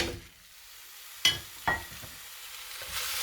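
Beef tossed into a hot frying pan, sizzling quietly with a couple of sharp clattering hits as the meat lands and is stirred, the fry rising again toward the end.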